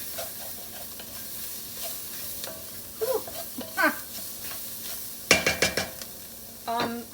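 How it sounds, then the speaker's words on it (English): Cayenne and spices being stirred and toasted in a pot on the stove. A soft sizzle runs underneath, broken by a few scraping stirs and a couple of sharper clinks of a utensil against the pot. "Give it a good stir."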